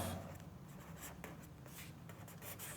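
Rapid scratchy writing strokes, close and steady, as a set is written out during a ninth-grade maths lesson; no speech is heard.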